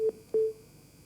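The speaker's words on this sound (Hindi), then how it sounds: "चलिए, फोन कट गया है कैलाश विजयवर्गीय का।" Two short electronic beep tones on a telephone line as a call drops during a live Hindi news broadcast, the second tone longer, with a faint line hiss and no talk.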